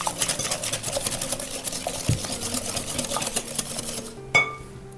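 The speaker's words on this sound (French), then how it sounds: "Et on va fouetter énergiquement comme d'habitude" A whisk beats batter vigorously in a bowl for an orange cake, producing a fast, steady stream of close metallic clicks and scrapes, ending with a single sharp clink.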